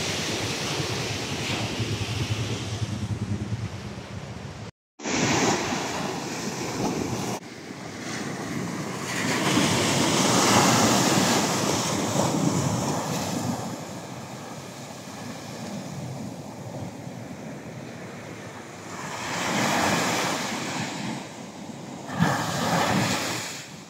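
Ocean surf rolls and washes continuously along the sea at San Juan, La Union, with heavy wind buffeting the microphone, a brief dropout near the start and louder swells building midway and toward the end.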